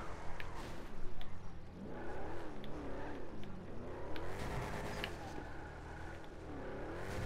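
In Grand Theft Auto V, a car engine revs and surges in repeated rising and falling sweeps while driving, loud and continuous with some background game noise.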